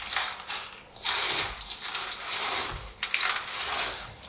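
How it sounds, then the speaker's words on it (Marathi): Fried sev being crushed by hand for ladoos, giving dry crackly crunching and rustling in irregular bursts, close and fairly quiet. "थोडं गार झाल्यानंतर ती शेव चुरून घ्यायची"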